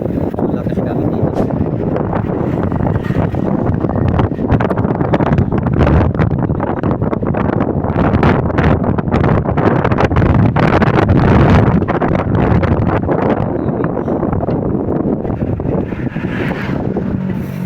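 Loud, constant wind buffeting a camera microphone while riding along a dark road in Pasig City at night, a steady roaring rumble that fills the whole stretch with no voices.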